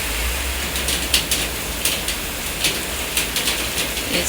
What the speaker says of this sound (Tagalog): Too much raining outside.